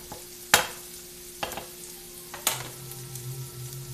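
Vegetables stir-fry on a stove in a steady low sizzle, with three sharp clacks of a utensil striking the pan and a faint hum underneath, close by and with no speech.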